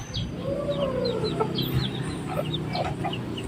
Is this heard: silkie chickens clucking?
yes